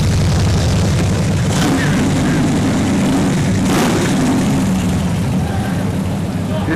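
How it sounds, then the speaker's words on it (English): A 1967 Chevrolet SS rolls past at a small-town car cruise, a loud steady engine roar with broad rumbling that swells slightly as it passes. "Coming up is Scott Simpke, driving an SS Chevy 67."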